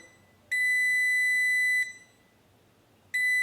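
A UNI-T UT60EU multimeter gives an unstable continuity beep: a steady high-pitched tone sounds for over a second, cuts out, then returns briefly. It is loud and close, with no talking.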